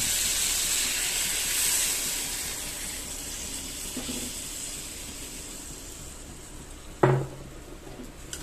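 Water is poured into a hot tilapia fish curry with ridge gourd and potato, giving a soft steaming hiss broken by a short splash and then a sharper, louder sizzling burst toward the end.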